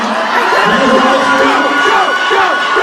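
Audience at an anime convention panel at SacAnime cheering and shouting in a steady, dense crowd roar, with excited voices mixed throughout.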